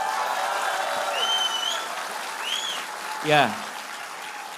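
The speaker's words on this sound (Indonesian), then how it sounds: "Kita kasih tepuk tangan buat mereka semua." Steady applause from a crowd fills the clip while a speaker's voice rises over it, with a brief louder voiced burst near the end.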